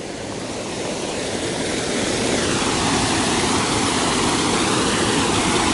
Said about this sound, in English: This dam here, a neat little waterfall.